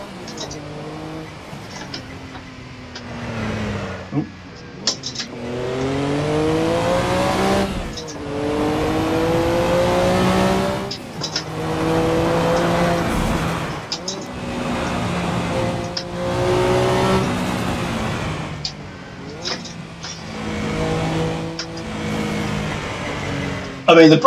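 A race car engine in Assetto Corsa revs hard and climbs through repeated upshifts, each gear rising in pitch before a brief drop, loud and continuous over about twenty seconds.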